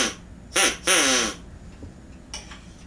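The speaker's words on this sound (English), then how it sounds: "You might hear a duck." A duck quacks nearby, two short nasal quacks in quick succession, then a fainter third call after a pause, alone against a quiet background.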